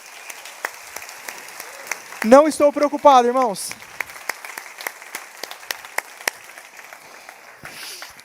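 A church congregation applauds in scattered, intermittent claps, with a voice speaking briefly over them partway through.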